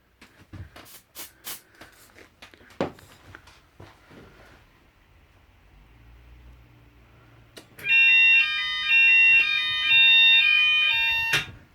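A fire alarm goes off during a test of an EVCP detector, giving loud repeating electronic tones for about four seconds after some handling clicks and a low hum.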